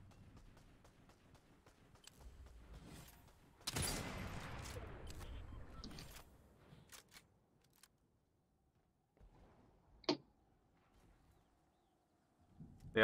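Gunfire in the video game Fortnite, aimed at a falling supply drop: one brief, fairly quiet crackling burst of rapid shots, then near silence with a few faint clicks.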